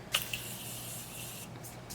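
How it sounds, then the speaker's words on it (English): Morphe continuous mist setting spray hisses onto a face in one sustained fine-mist burst lasting over a second, opened by a couple of pump clicks, with a fainter puff after it. Close and alone. "so I'm gonna go in with my Morphe setting spray real quick"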